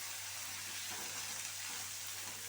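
Spices sizzling in hot oil for egg korma with chilli powder and garam masala, a steady close frying hiss that runs the whole time with no talk.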